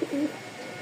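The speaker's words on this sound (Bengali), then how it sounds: "এত সুন্দর কবুতরের ডাক" A pigeon gives a short, soft coo near the start, then faint background hum; the bird is kept among breeding pigeons.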